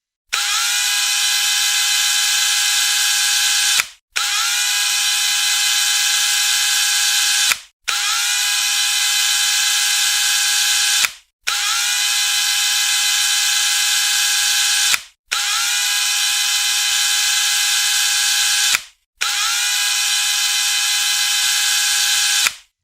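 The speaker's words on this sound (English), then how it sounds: "You'll also want to drill them so that the vinyl tubes will fit quite snugly" A power drill bores holes sized for snug-fitting vinyl tubes, running in six steady bursts of about four seconds each with brief pauses between, loud and close with a constant high whine and no talking.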